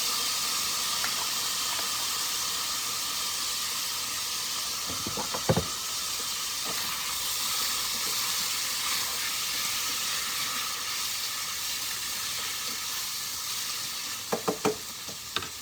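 Smoked sausage and garlic sizzle steadily in a skillet, a constant loud frying hiss with a few clinks of a utensil stirring, no talk.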